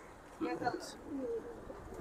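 A pair of silver pigeons, a male and female kept for sale, give short soft coos at close range while someone talks alongside.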